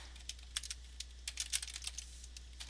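Close, quiet typing on a computer keyboard, scattered uneven key clicks in short bursts over a low steady hum, with no talking.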